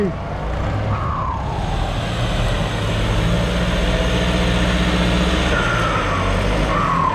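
A turbocharged excavator engine runs steadily with a rising high-pitched turbo whine drifting in and out over the rumble, close by.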